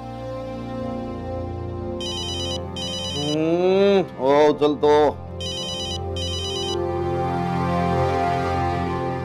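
A phone ringtone chirps in short electronic bursts, breaks off for a voice making drawn-out lowing sounds, then rings twice more over a low background hum.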